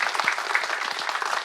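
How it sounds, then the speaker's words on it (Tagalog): A congregation clapping together during a Filipino church sermon, a brief burst of dense applause with scattered individual claps, heard without speech. "Sabay palakpak sa Panginoon."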